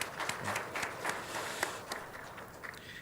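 A church congregation applauds during a Sunday service, a soft, fairly distant patter of claps that tapers off over a few seconds.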